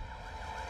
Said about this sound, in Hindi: यहाँ पर एम्बुलेंस आ गई है।